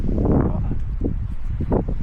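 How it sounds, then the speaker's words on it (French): Wind blowing outdoors on a hike toward Pégomas under a cloudy sky, gusting in uneven surges with rustling and buffeting against the microphone, fairly loud, no speech. "là il y a du vent"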